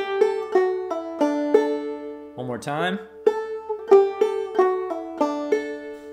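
Clawhammer banjo plays a measure of Logan County Blues as a run of bright plucked notes with ringing strings, broken midway by a brief spoken phrase before the picking resumes at an even, close, moderate volume.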